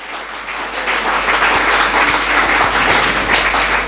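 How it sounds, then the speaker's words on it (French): Church congregation applauding after a call to cheer, a dense, sustained roar of clapping that rises and stays loud throughout, with no talk over it. "Est-ce qu'on peut acclamer pour la parole?"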